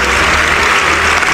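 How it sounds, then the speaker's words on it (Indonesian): A Christian apologetics question-and-answer gathering in Pekanbaru breaks into applause for the questioners, a thick, continuous wash of clapping that stays loud and unbroken for the whole short stretch. "Kita tepuk tangan untuk semua penanya"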